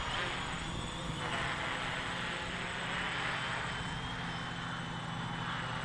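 A small multirotor drone running a DJI Naza-lite flight controller hovers steadily, its motors giving a continuous, even buzzing drone that stays loud and unchanging throughout without breaks.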